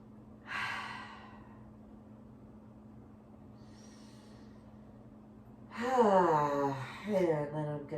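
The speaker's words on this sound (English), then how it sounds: "just give that a couple of breaths, 2-3 deep breaths" Slow deep breathing during a yoga forward fold: a soft audible exhale near the start, a quiet pause, then a longer voiced breath with a low hum or sigh near the end over a faint steady background tone.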